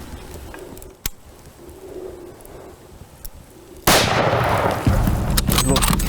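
A single loud rifle shot cracks out close by on a hunt in Zambia, a sharp blast followed by rumbling echo and noise after a quiet stretch with faint birds and small clicks.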